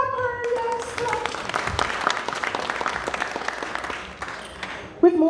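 Audience applause at a cultural association awards ceremony, a crowd clapping densely and evenly for several seconds before fading, with a voice beginning to speak at the very end.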